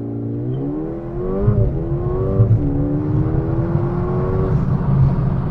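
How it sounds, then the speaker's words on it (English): A Mercedes-AMG A35 sedan launches hard under launch control, its engine holding revs and then rising through loud, climbing sweeps with a gear change midway, close and steady for several seconds. "I don't think there's a better way to start a review than with a launch control"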